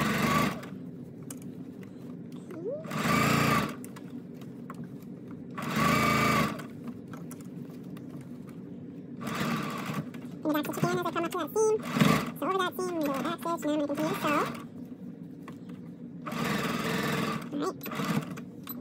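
A sewing machine stitches the seam of a lined drawstring bag in several loud, steady bursts of a few seconds each, separated by pauses where a person talks.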